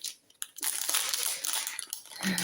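Crinkly paper wrapping being removed during an unboxing, rustling and crunching up close, a steady stretch of handling noise after a brief quiet start.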